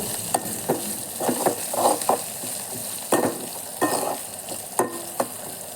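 Sambar onions fry in oil in a pan for a Tamil spinach and green gram dish, a low sizzle broken by repeated scraping stirs of a spoon at an uneven rhythm, close and with no one speaking.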